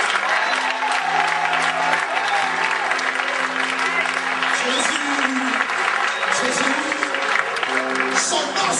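A church congregation applauds and cheers loudly and continuously throughout, with voices rising over the clapping crowd.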